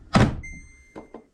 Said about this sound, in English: throw it in there, shut the door